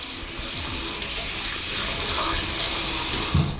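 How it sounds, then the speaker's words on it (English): Running water from a sink faucet rinses a stainless steel shower squeegee, a steady loud hiss and splash with a brief gurgle near the end, heard alone. "you can just use some water to rinse it off"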